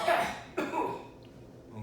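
A forceful cough bursts out, followed moments later by a second shorter cough, then quiet.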